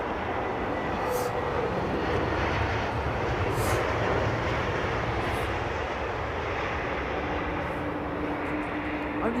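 An airliner departs from runway 27R, its jet roar steady and loud, with a broad engine rumble and no breaks through the whole stretch.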